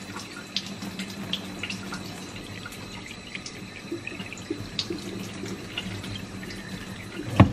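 Regular tap water runs from a faucet while watering a string of pearls houseplant, a steady close splashing stream with small drips and clinks, ending in a louder knock.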